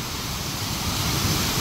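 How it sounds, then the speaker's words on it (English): Waterfall in Idaho, a steady broadband rush of falling water that stays loud and unbroken throughout, with no voices over it. "beautiful waterfall."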